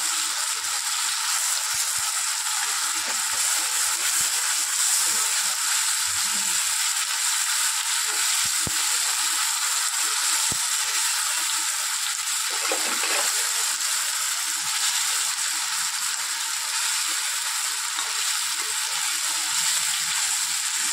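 Chicken pieces fry steadily in a pan, a continuous bright sizzle and crackle that stays even throughout, with occasional faint clinks and no talking.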